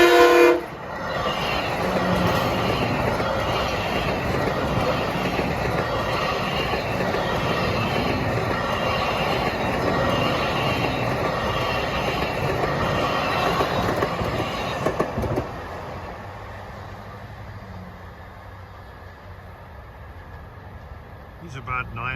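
LIRR M3 commuter train cars, a westbound deadhead, rolling past on the Ronkonkoma line, loud and close with steady rumble, rail clatter and brief horn at the start, then fading as it moves away; people speak nearby.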